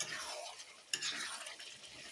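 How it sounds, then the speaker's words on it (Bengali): Chicken pieces being stirred and fried with meat masala in a pan, a scraping stir with a sharp spoon knock, over a soft continuous sizzle. "ভালো করে চিকেনগুলো কষিয়ে নেব।"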